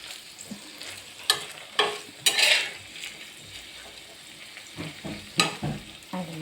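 Paneer fries in a pan, with a soft background sizzle and several sharp stirring scrapes and clanks of a spatula against the pan, close by and with no talking.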